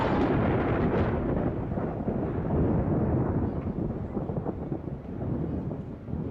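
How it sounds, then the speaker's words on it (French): A thunderstorm in the PS1 game Harry Potter 2 sends a loud, sustained, low rumble rolling on and on, with a slight swell near the start and no speech. "Bon, apparemment, il y a de l'orage."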